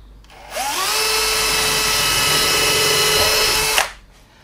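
Small power drill boring a little hole into a 9.5 cm epoxy resin micro LED lamp, a loud steady whine rising as the motor spins up, holding for about three seconds, then cutting off.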